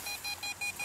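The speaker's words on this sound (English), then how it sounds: "It's beeping faster." Rapid electronic beeps from an EMF meter, about five short even tones in under a second, close and steady with no voices.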